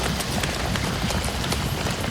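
Horses galloping as a sound effect for the Egyptian army's chariots in a narrated Bible story, with rapid continuous hoofbeats, loud and close, mixed with rushing noise.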